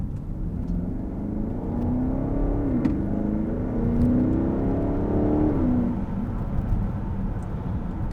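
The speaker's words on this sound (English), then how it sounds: "that exhaust sounds really nice coming out of this V8 engine" V8 exhaust of a 2020 BMW X5 M50i SUV, a steady, loud engine drone that rises in pitch as it revs, then settles, heard alone and close for the whole stretch.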